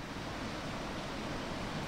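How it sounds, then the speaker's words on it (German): Leaves rustling in the wind: a steady, even, broadband hiss with no distinct gusts or pauses, heard alone. "Das Blätterrauschen im Wind."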